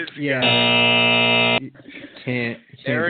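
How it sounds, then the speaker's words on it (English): A buzzer sound effect on a talk show: one loud, steady, flat buzz of about a second, followed by people talking. "that gets the buzzer"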